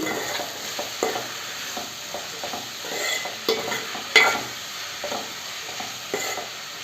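Onions with salt frying in a pan while being stirred, a steady soft sizzle close by with repeated scraping strokes of a spoon throughout.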